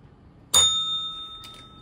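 A single bright bell strike rings out with a clean metallic ding, its tone sustaining and slowly fading over about a second and a half in a quiet room.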